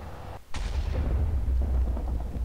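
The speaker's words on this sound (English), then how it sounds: "And then you hear the strike of lightning," A lightning strike in Minecraft with the Thaumcraft mod charging a talisman core: a sudden, sharp crack followed by a deep, rolling boom that lingers for about two seconds, with no voice over it.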